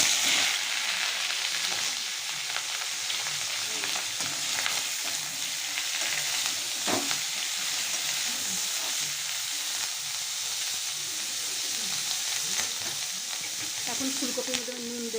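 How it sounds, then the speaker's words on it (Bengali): Cauliflower frying in hot white oil in a wok, a steady, dense sizzle and crackle running throughout with occasional stirring scrapes. "এবার আমি ফুলকপিগুলো দিয়ে দেব।"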